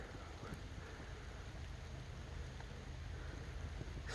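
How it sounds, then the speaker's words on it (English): Rain falls outdoors at an off-grid weekend campsite, a soft, even hiss of drops that stays faint and unchanging throughout with no voices. "as you can hear, the rain is coming down"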